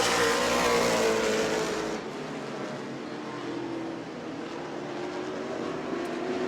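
Stock race cars roar around the New Smyrna short track during a race, a dense, steady engine drone loudest at first as the pack passes close, then settling into a slightly fainter sustained rumble with no talk.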